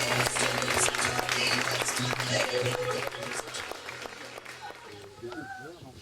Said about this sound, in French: Vous pouvez encore les applaudir, les plus beaux mariés de l'année